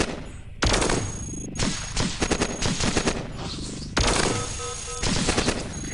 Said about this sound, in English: you're going to just shoot me here